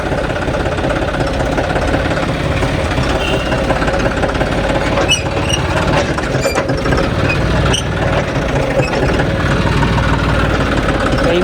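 An old John Deere 5310 tractor engine runs close to the microphone with a loud, steady, knocking diesel rumble that holds throughout with no voices.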